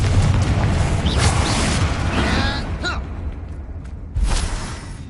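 A Confringo spell blasts in a Harry Potter video game: a heavy booming burst with whooshing crackle that fades, then a second sharp explosive hit near the end, loud and close.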